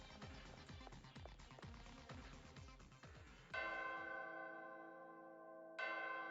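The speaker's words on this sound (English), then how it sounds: "So the door opens if you ring the bell?" A bell rings out in Danganronpa: Ultra Despair Girls, two resonant strikes with long sustained tails following a rhythmic clattering passage, clear and fairly loud.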